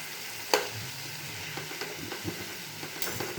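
Fenugreek greens frying in a pan, a steady soft sizzle with occasional stirring clatters and one sharp utensil knock near the start, heard close and without talk.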